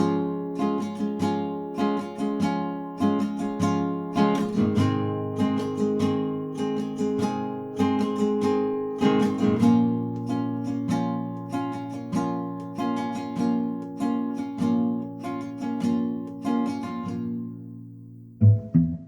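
Acoustic guitar strums the chord progression of a song, bright rhythmic strokes ringing out alone and close, ending with a couple of sharp final strums.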